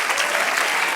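A church congregation claps steadily during a sermon, a dense wash of applause filling the whole moment without a break.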